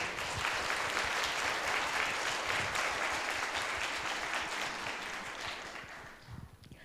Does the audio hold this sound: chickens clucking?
no